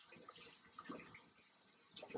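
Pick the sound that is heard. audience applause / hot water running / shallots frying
hot water running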